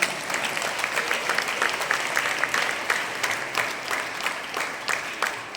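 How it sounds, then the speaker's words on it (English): Steady audience applause at a school awards ceremony for students, a dense even patter of many hands clapping that continues throughout. "Let us give the students of Standard 5 and 7 a big round of applause"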